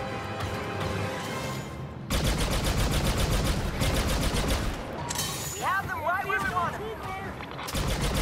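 Rapid bursts of blaster and scattergun fire in Star Wars Battlefront II, loud and dense, with repeated shots over a continuous battle din and a voice talking through it.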